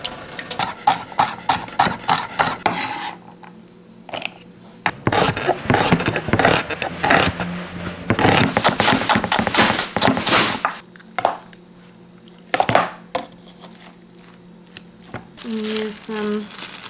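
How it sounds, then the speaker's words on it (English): A vegetable knife chops on a cutting board in a kitchen, irregular bursts of sharp cutting and scraping with pauses between, mixed with rustling handling noises and a brief tonal sound near the end. "I'm just gonna grab my vegetable knife, and I'm gonna go start chopping."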